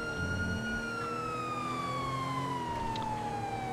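An ambulance siren in the video game GTA V, a loud continuous wail slowly dropping in pitch as if passing by, over a low engine rumble, no talk.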